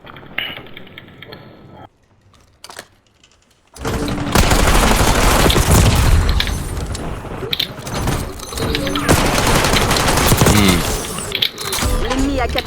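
Video-game gunfire in a capture-the-point match: after a quieter stretch with a few sharp clicks, dense bursts of rapid shots and automatic fire break out and keep going, loud and close, with voices in the background.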